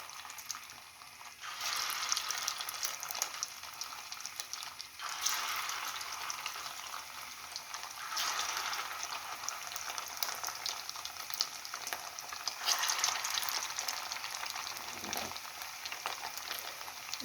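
Steady crackling sizzle of sausages frying in hot oil, a dense spattering hiss that swells and eases in waves, close by with no talking.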